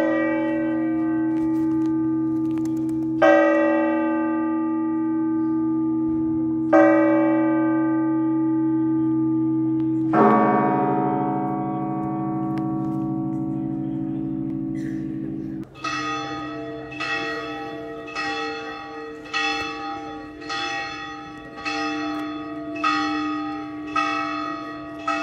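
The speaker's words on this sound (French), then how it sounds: "Je suis trop content que les cloches sonnent" Church bells ring loudly and resonantly at the end of the Camino de Santiago pilgrimage route near Fisterra. Slow, spaced strikes are left to hum and fade, then a quicker, regular series of strokes follows.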